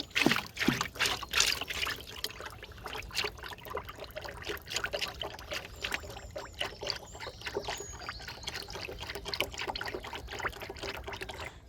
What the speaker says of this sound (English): then we give them a really good glug of syrup